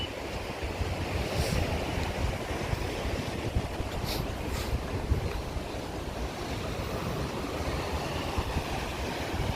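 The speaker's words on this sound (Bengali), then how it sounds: "দেখতে পাচ্ছ জল এখনও যাচ্ছে আর ওই যে ব্রিজটা এই দেখো জল এখনও যাচ্ছে" Floodwater in Jharkhand rushing past a bridge, a steady, loud roar of flowing water mixed with wind buffeting the microphone, with no voices heard.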